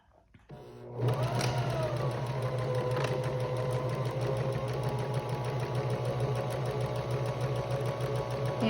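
A sewing machine stitches fabric for a zipper pouch, starting up after a moment and then running at a steady, close, loud mechanical whir with a regular rapid needle rhythm.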